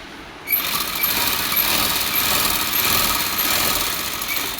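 A sewing machine runs steadily, stitching the seam of an underskirt. It starts abruptly after a brief quiet moment, then holds a continuous, close-up mechanical whir to the end, with no talking over it.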